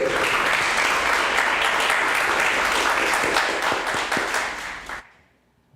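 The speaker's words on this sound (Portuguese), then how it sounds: "Aplauda o Rei." A church congregation applauds in a sustained, dense burst of clapping with some voices mixed in, then the applause cuts off abruptly near the end, leaving near silence.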